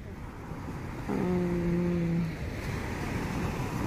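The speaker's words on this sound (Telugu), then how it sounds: "సముద్రపు అలల హోరు వినిపిస్తోంది కదా" Pacific Ocean waves on the Shimizu coast in Japan, a broad continuous roar of surf with a brief tonal hum in the middle.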